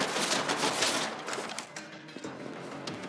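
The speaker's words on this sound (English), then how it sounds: "While they're still shooting at me, I'm gonna open this chest." Enemy gunfire in the video game Borderlands 3, a dense run of overlapping shots and bursts close up, sustained for a few seconds with no talk over it.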